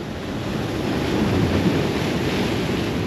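Ocean waves wash against rocks along a rocky shore, a steady broadband surge with gentle swells, close and fairly loud, with some wind rumbling across the microphone.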